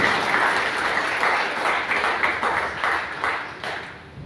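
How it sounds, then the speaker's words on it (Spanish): Loud, sustained applause from a church congregation during a Spanish-language worship service, a thick wash of many hands clapping close and steady before easing slightly at the end. "Denle fuerte ese aplauso al Señor nuestro Dios"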